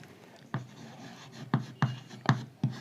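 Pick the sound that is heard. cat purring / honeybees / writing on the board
writing on the board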